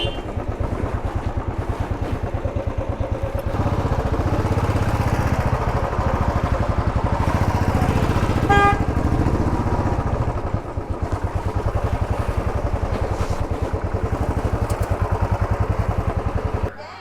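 Motorcycle engine running steadily and loud throughout while riding into Kumbhalgarh Fort in Mewar, a continuous close mechanical drone with little variation and no talk.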